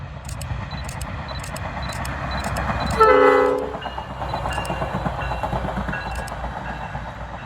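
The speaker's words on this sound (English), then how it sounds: "how could I not include the Bud RDC?" A Bud RDC rail diesel car rolls past with steady wheel and engine rumble, then sounds one loud, sustained horn blast of about a second before the rumble continues.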